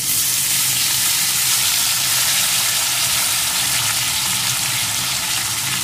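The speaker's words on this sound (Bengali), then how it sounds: "ফোড়নটা একটু ভেজে নিয়ে এর ভিতরে আমি ওই টুকরো করা আলুগুলোকে এখন দিয়ে দেব।" Panch phoron spices and potato pieces frying in a hot pan, a continuous loud, even sizzle and crackle with no voices.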